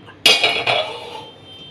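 Metal cooking pot set down on a tawa griddle for dum biryani, a sharp clanking contact followed by two lighter clinks and a short ringing metallic decay, close and alone.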